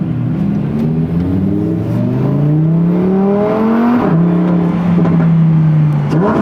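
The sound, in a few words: supercar engine revving during launch control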